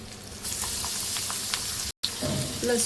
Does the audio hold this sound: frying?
yes